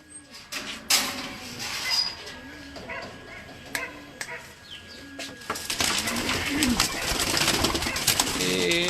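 Pigeons cooing on a rooftop loft, soft repeated low coos at a steady rhythm near the microphone, with bright clicks, rustling and later a louder wash of background noise.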